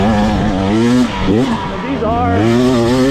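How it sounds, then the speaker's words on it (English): A 2024 GasGas hard enduro single-track motorcycle engine revs loudly nearby, its pitch rising and falling in quick sweeps, while someone talks over it. "These are more of the hard Enduro single track bikes"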